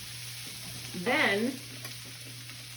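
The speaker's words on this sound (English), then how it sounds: "Once I can kind of hear it slowing down, the sizzle is slowing down" Vegetables sizzle steadily in a heavy stir-fry pan, a constant close hiss with a low hum beneath it, while a voice speaks briefly over it.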